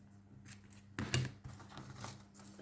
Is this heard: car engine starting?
no